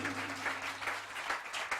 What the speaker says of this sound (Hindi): अभी भी आपकी तालियां कम हैं